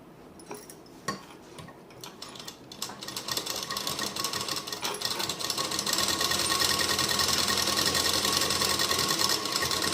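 A sewing machine stitches a suit lining, starting with a few scattered clicks and handling noises before settling into a continuous, steady run that builds in loudness and holds to the end.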